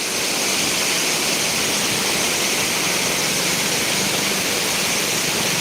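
Heavy, steady roar of the Sutlej river pouring through a gate of the Ropar headworks, a dense unbroken rush of water, loud and close, with no voices.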